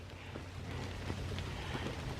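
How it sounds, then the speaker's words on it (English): Water drips off leaves in a park on a dark, cloudy morning after overnight rain, scattered soft patters and taps over a faint steady wash, quiet and a little distant, no voices. "It sounds like it's sprinkling now, but I think that's just the water dropping off the leaves."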